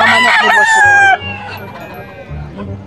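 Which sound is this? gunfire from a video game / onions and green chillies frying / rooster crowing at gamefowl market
rooster crowing at gamefowl market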